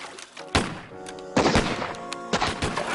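Gunfire in a French film adaptation of Jules Verne's Mysterious Island: three loud, sharp bangs spaced about a second apart, each with a short ringing tail over a busy background.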